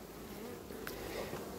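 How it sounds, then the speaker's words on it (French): Dense, steady buzzing of honeybees swarming over an open, crowded beehive, a continuous close drone filling the whole stretch with no talk. "Ça déborde d'abeilles."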